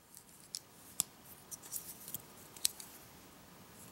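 Small scissors on a Gerber multitool being opened and snipped, a few sharp metallic clicks and snips spaced irregularly, close and quiet with no talking.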